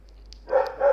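A dog lets out two short, sharp barks in quick succession, close and fairly loud, over a quiet background with no speech.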